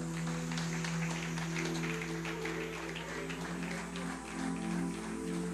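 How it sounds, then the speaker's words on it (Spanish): Dense, steady applause from a church congregation for a preacher, a continuous wash of claps holding at an even level for several seconds with no speech over it. "Aplauda al maestro, por favor."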